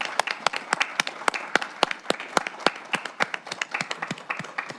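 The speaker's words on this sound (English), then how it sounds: "Can we give our panelists a round of applause?" Audience members clap for a panel of speakers at a Cuyahoga County discussion event, crisp individual claps in a moderately sized crowd, rhythmic and steady throughout.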